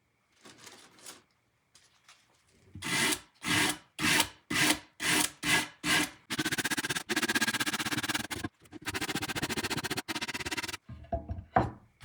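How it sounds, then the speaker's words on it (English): A sanding block rubs back and forth along the edge of a glass cutting board in quick, rhythmic scraping strokes, first as separate passes and then in longer continuous runs, close and clear with no talking. "I'm just gonna put this block here so I can sand this off."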